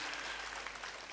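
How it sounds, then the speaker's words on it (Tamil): Brief, faint clapping from a Tamil pattimandram comedy debate audience, a short burst of dense hand claps heard alone without talk. "நீங்கள் ஒரு தடவை கைதட்டுங்க பார்ப்போம்."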